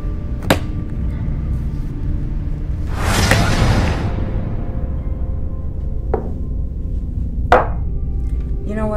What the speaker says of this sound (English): You gonna finish chopping wood or come in and get a welcome drink? Maybe chop a little more wood.